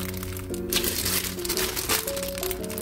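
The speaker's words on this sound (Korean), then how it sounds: "여기서 꼭 지켜야 될 거 바로 이 비닐장갑입니다" Thin plastic vinyl kitchen gloves crinkle steadily and close, a continuous crackling rustle over a faint background hum, while butterbur stalks are being peeled.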